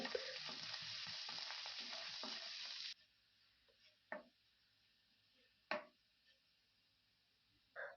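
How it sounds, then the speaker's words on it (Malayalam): Finely chopped ginger and garlic drop into hot coconut oil in a pan and crackle in a loud, dense sizzle for about three seconds, then it cuts to near quiet with a few scattered knocks and clinks. "വെളിച്ചെണ്ണ ചൂടായി വരുമ്പോഴേക്കും ഇഞ്ചി ചെറുതായിട്ട് അരിഞ്ഞത് ഒരു ടീസ്പൂൺ വെളുത്തുള്ളി ചെറുതായിട്ട് അരിഞ്ഞത് ഒരു ടീസ്പൂൺ എന്നിവയിട്ട് മൂപ്പിക്കാം"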